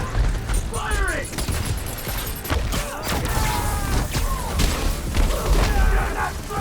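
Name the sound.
gunfire in the video game Spider-Man: Miles Morales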